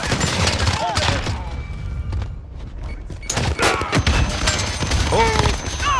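P90 submachine gun and rocket launcher fire in a shooter game: bursts of gunfire and heavy thuds and booms come in uneven clusters, while voices talk over the action.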